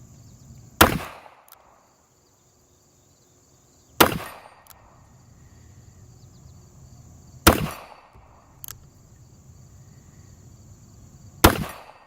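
A four-inch S&W L Frame .357 revolver fires at a 10-inch steel plate 25 yards away: four loud, sharp shots about three to four seconds apart, with quiet pauses between them.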